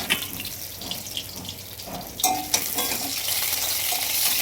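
Hilsa fish sizzling in hot oil in a wok, a steady broadband hiss with occasional scrape and stir clatters, close and moderately loud, no voices.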